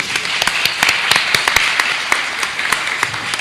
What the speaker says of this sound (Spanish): Susana, un aplauso para ti.